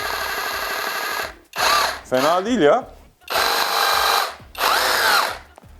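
A cordless drill from a four-piece cordless tool set runs in hammer mode in several loud bursts, its motor whine rattling with rapid impacts, while someone speaks briefly between runs.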